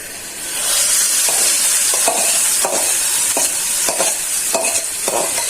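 Onions sizzle in hot oil while a spoon stirs the pan in brief scraping strokes about every half second, the bright frying hiss steady and close for a lentil khichuri.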